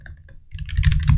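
Rapid typing of code on a computer keyboard, close and clear, with keys clattering in a quickening burst and no voice over it.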